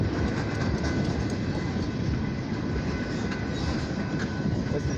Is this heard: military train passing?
yes